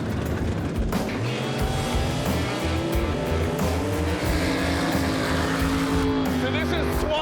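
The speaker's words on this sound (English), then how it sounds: "So this is swamp buggy racing, a submerged track down in the Florida Everglades." Swamp buggy race cars run on a submerged track in the Florida Everglades, their engines roaring and revving with shifting pitch over several seconds while someone talks over the noise.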